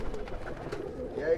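A gold-touch champion pigeon gives a brief, soft coo while being handled and shown up close. A voice talks over it.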